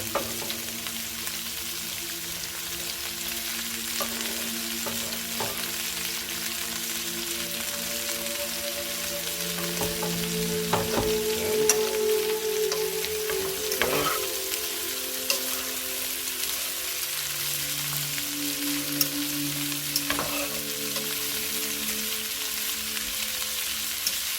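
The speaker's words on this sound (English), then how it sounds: "I will just put it all in there at the same time. Peppers, onions, grease." Peppers and onions fry in bacon grease in a skillet, a dense steady sizzle with soft crackles and occasional stirring scrapes, close and continuous, with no talking.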